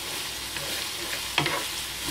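Shepherd's pie filling sizzles steadily in a pan as it reduces, a soft continuous frying hiss with a brief stir or clink partway through, fairly quiet and with no talking.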